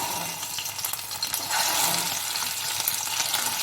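Goat brain pieces fry in hot oil with a continuous close crackling sizzle that swells slightly halfway through, with no voices.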